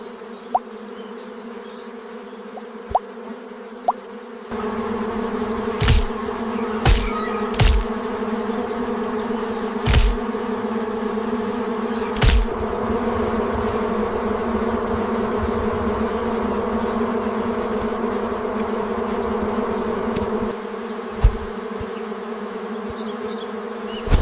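A colony of giant bees swarms in a continuous loud, close drone with a layered buzzing hum that persists throughout, broken by several sharp brief thumps.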